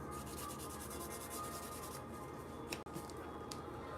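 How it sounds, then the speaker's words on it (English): Fine grit sandpaper rubs across a painted edge in a soft, steady scratching that runs through the whole stretch at low volume, with one small click near the end. "then you hit it with a fine grit sandpaper just to make the edge a little bit rougher"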